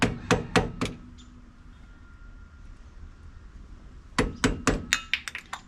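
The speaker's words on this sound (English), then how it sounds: "Gotta pop this dust cap off so we can get to our nut." Metal tapping and clinking from work on a 1989 Pontiac Firebird wheel hub while popping off the dust cap: a quick burst of sharp strikes, a pause, then another rapid run of close, ringing hits.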